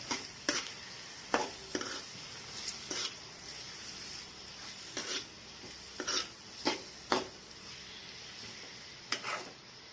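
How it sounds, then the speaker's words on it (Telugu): Spoon stirring tomato and onion masala in a pan for chicken gravy curry, with repeated short scraping rasps at an uneven rhythm over a soft steady sizzle, close and fairly quiet. "టమాటా ఆనియన్స్లో బాగా మిక్స్ చేసుకోవాలి"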